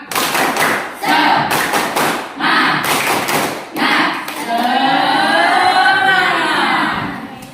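A classroom of students performs a rhythmic spirit clap, several loud group claps in a steady pattern, followed by a chanted group voice rising and falling.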